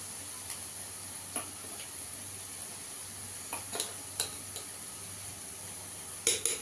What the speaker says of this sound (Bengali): এখানে আমি সর্ষে, পোস্ত আর কাঁচা লঙ্কা বাটা দিয়ে দেবো।